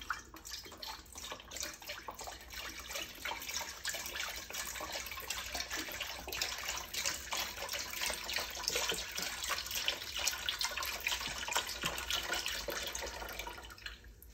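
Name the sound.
chicken stock being poured into a pan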